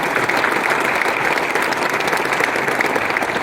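At an RCM success celebration, an audience breaks into strong, continuous applause for the speaker's upline and team, a dense wash of many hands clapping close by.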